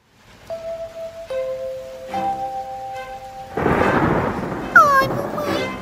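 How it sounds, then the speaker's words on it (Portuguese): A heavy rainstorm with a thunderclap sits in a cartoon-style scene. Sustained tones come first, then dense rain hiss takes over, with a sharp thunder crack near the end. "Eu estou com medo dos trovões e dos raios."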